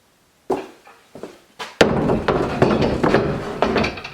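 An ice auger is set down into a plastic sled: a few hollow knocks, then a louder clatter and sustained scraping, shuffling rattle of plastic, close by.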